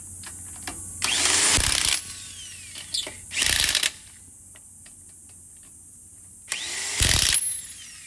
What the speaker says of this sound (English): We've got the tire on, now let's put these beautiful lug nuts on.